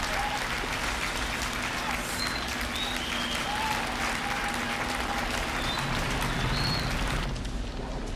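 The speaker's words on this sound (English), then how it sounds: "Thank you for applause." Faint, continuous crowd applause is heard during a livestreamed music performance, a soft, even hiss of clapping that sounds distant and steady throughout.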